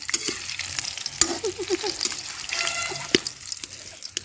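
Onion-leaf pakoras frying in oil on an outdoor clay stove at night, a steady crackling sizzle with scattered pops and stirring clinks throughout, close and moderately loud.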